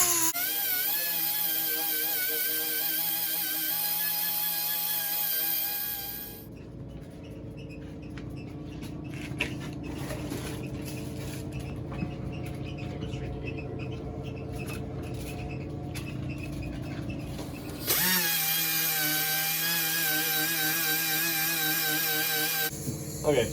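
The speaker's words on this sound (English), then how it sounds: "I'm going to use the DA on it for the rest of the way to get most of it flat" A DA sander works a dented car fender with a steady, high whirring drone. It drops to a lower, rougher grinding tone in the middle as the pad bears down, then returns to the lighter whir.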